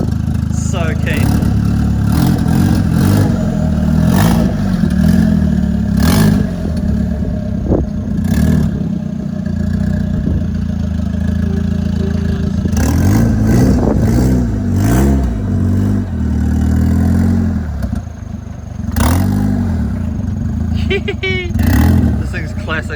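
A Mitsubishi Evo with a turbocharged 4G93 SOHC engine driving, its engine revving up and down loudly and close throughout, with repeated surges and rattles and voices over it.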